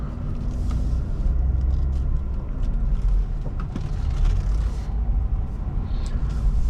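A 2007 Honda Accord Coupe EX-L V6 drives along with a steady low engine and road rumble heard from inside the cabin, constant and unbroken, with faint clicks over the hum.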